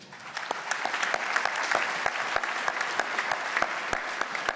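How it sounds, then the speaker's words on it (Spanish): Loud, sustained applause from a lecture audience fills the whole stretch, dense and steady with sharp individual claps standing out, after a speaker is introduced at a political forum. "Fuerte aplauso."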